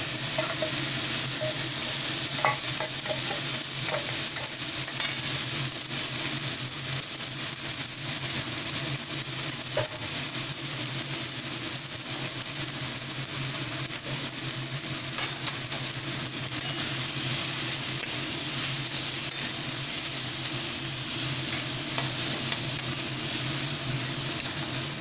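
Peas and mashed potato stirred together in a frying pan: a steady close sizzle with scraping strokes of a spoon running continuously and evenly, no voices.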